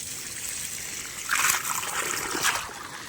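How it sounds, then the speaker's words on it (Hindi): Well water gushing straight out of a pipe on a farm, heading toward mango trees, gives a steady close trickling and splashing wash that swells briefly twice. "ये कुआं से सीधे आ रहा है पानी"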